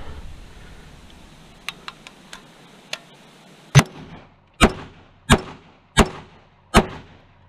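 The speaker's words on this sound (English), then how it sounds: "Only a few mags left, so I'm going to burn them off into the berm." Rifle fire emptying the last magazines into a dirt berm: a few light, evenly spaced shots followed by five louder, sharper cracks at a steady pace, each ringing out briefly.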